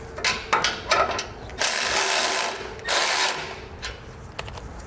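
Ratcheting clicks from a hand wrench snugging a nut down on a trailer hitch bolt, with a split lock washer and flat washer, for an EcoHitch hidden front mount receiver; quick close bursts of rapid clicking separated by short pauses.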